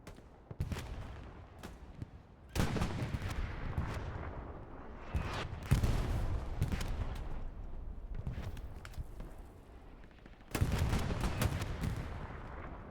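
Gunfire crackles from an online multiplayer battle game during a clan match as an Allied push advances, with loud dense bursts of shots and blasts separated by short lulls of quieter distant firing.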